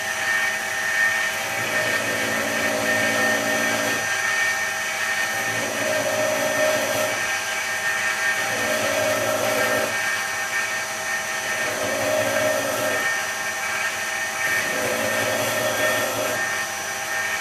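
A belt grinder runs continuously on steel while it is ground up to a scribe line. It hums at an even, loud level, and the pitch rises and falls in a slow repeating rhythm as the work is pressed on and eased off.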